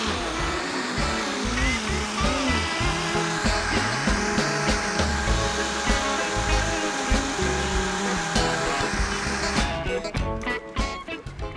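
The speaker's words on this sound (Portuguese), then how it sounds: "agora a gente vai bater tudo no liquidificador" A kitchen blender whirs steadily as it mixes recipe ingredients including flour on a cooking segment of a TV magazine show, loud and continuous for several seconds before choppier pulses near the end.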